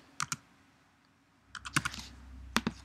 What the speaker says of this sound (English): And go ahead and type your question in here.